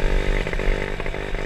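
An RXF 50cc mini trail motorcycle engine drones while riding, a loud, close, buzzing small-engine rasp with slight rhythmic flutter, no voices over it.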